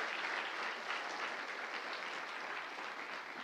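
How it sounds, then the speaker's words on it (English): Steady applause from an audience at a Sunday church rally, dense and sustained clapping filling the room without pause, fading slightly toward the end. "Give them all a round of applause."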